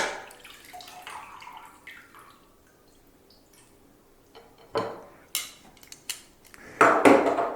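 Metal tongs clink and knock against a fermenting pot for corn wine, scattered sharp taps and scrapes amid quiet dripping, growing busier toward the end.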